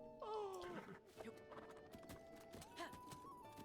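Skeleton horse hooves clop in Zelda: Breath of the Wild, close and quiet under a whinny-like tonal call and faint game ambience, with a few distinct steps spread through the moment.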